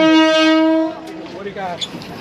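A train horn at Maeklong Railway Market in Thailand sounds one long, loud, steady blast that cuts off, followed by the noisy bustle of the market with voices nearby.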